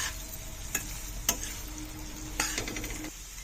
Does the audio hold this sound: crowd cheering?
no